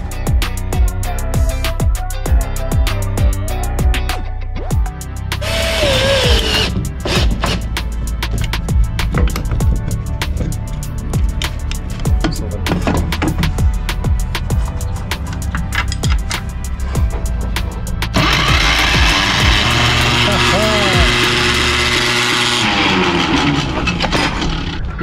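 A starter motor from an old VW Bus with a 1.7-litre diesel engine runs loud and close, a continuous mechanical whirring that shifts and surges for about 25 seconds.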